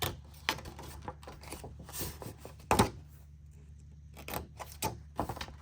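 Scissors cut the two side pieces off a handmade tissue paper coin envelope: quiet, scattered snips and papery rustles, with one sharper thump in the middle, close up and without talk.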